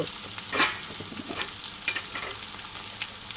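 Tomatoes tipped into a pan of browned onions, steady sizzling frying with stirring scrapes and small pops, close and continuous.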